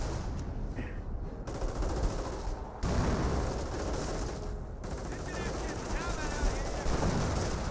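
Sustained battlefield gunfire from a Company of Heroes real-time strategy game, with machine-gun bursts and rifle volleys rattling continuously throughout under a voice casting the match.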